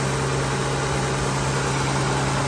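A 2002 Acura MDX engine idles steadily and close by, a constant low hum with a smooth, even rumble and no change in pitch.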